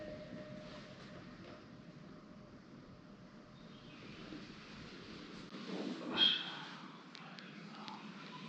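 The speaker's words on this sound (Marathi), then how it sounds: "इथून कोकण रेल्वेचा आवाज एकदम क्लिअर येतोय" A Konkan Railway train passing below a hilltop temple viewpoint, heard from a distance as a faint, steady rumble with a brief swell midway, no speech.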